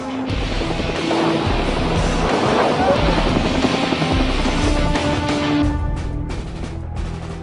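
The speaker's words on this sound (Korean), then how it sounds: "이동훈 소령의 기량이 공격 헬기와 함께 점점 가속도가 붙는다" Steady, loud attack helicopter rotor roar from an army helicopter unit fills the scene while a voice talks over it.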